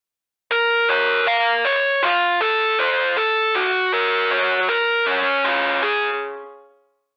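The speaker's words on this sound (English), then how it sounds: "Filter it using fruity filter or whatever filter." A synthesized melodic line is processed with a Fruity Filter in FL Studio. It plays as a sequence of distorted, buzzy notes in a steady rhythm, loud and alone, then fades out at the end.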